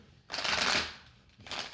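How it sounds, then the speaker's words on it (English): Tarot cards shuffled by hand in two bursts of dense riffling, close and fairly quiet, with a short pause between them. "Currently shuffling your cards here."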